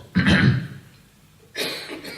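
A person clears their throat with a rough, broad burst, followed after a short pause by a second, breathier throat-clearing sound.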